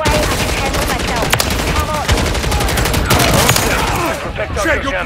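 Heavy, continuous automatic gunfire in Call of Duty: Modern Warfare III, loud and close, with overlapping bursts and sharp cracks, and shouted voices mixed in.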